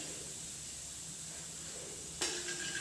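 Fennel, asafoetida and nigella seeds frying in oil give a faint, steady sizzling hiss, with a sharper, louder burst of crackle near the end.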